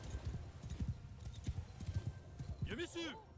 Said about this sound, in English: I'm riding a horse with no saddle, covered in blood.